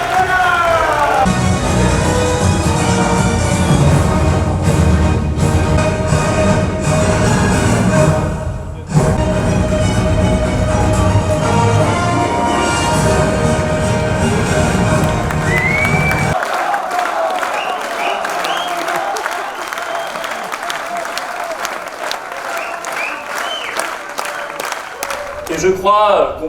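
A crowd at a French political rally and congress in Arras applauds and cheers for Gilbert Collard, a dense, roaring ovation that thins into scattered clapping and voices by the end.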